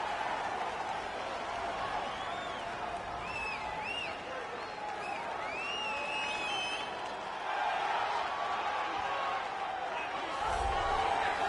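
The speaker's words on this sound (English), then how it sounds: "what a pop from the crowd as this guy makes the walk" A UFC 3 video game arena crowd roars steadily as a fighter makes his walkout, a dense, moderately loud wash of cheering with a few whistles rising above it.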